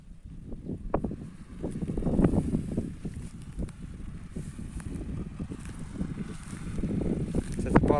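Steady wind buffets the microphone with low rumbling gusts during hay raking, mixed with nearby rustling and raking sounds.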